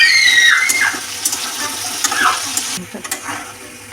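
Potato pieces fry with a little turmeric in a pan for alu posto, giving close sizzling and wet crackle, with a few brief scraping stirs of a utensil against the pan.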